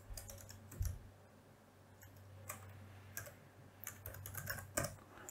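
Quiet, sparse typing on a computer keyboard while writing code, with irregular bursts of soft key clicks over a faint steady electrical hum.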